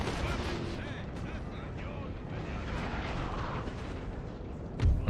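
Artillery cannon fire during a Napoleon: Total War battle as Great Britain, a dense rumbling barrage of booms blending into continuous roar, with a heavy close blast near the end and voices faintly underneath.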